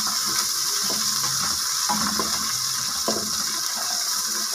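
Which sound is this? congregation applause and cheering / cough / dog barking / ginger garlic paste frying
ginger garlic paste frying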